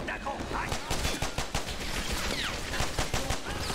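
A modded gun fires rapidly in Medal of Honor: Airborne, a steady run of loud, punchy shots in quick rhythm. Scattered faint voices and battle noise sit underneath.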